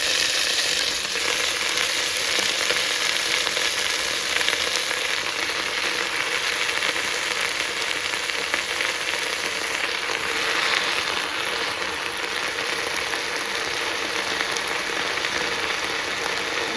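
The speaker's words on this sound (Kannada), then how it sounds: "ಈ ಆಯಿಲ್ ಹಾಕಾದ್ಮೇಲೆ ಈ ಪಾತ್ರೆಗೆ ಸೊಪ್ಪು ಹಾಕ್ತಾಯಿದ್ದೀನಿ" Gongura (sorrel) leaves sizzle and crackle steadily in hot oil in a pot, a loud continuous frying hiss that barely changes throughout, with no talking.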